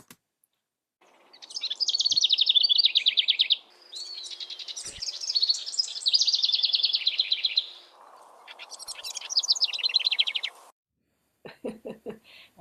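A wren sings near a house in several loud, rapid, trilling bursts of high chirps, each lasting a few seconds, with short gaps and a fainter buzzy call between them.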